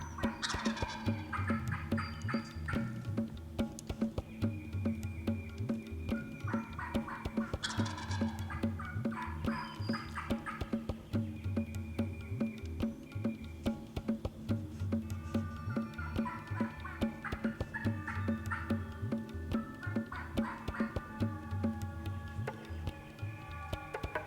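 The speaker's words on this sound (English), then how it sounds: "That turkey loved the mouth calling, and he started coming in on a string." A wild turkey gobbles repeatedly in answer to a hunter's mouth call, with rapid bursts recurring every few seconds through the stretch, sounding fairly close, loud and clear over a steady outdoor background.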